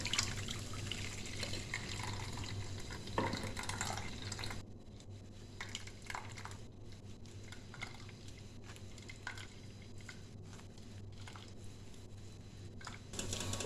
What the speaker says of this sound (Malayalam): ഇനി ഇതൊരു പാത്രത്തിലേക്ക് അരിച്ചൊഴിക്കാം.